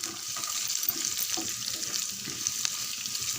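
Vermicelli and cashews sauté in a pan for semiya upma, a steady close frying sizzle that runs throughout with faint stirring scrapes and no talk.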